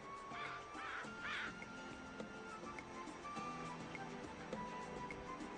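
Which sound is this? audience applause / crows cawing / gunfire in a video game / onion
crows cawing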